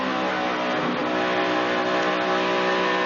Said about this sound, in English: You're just hearing me get out of it, let the car roll a little bit, maybe a little bit of braking, and then you're right back on the gas.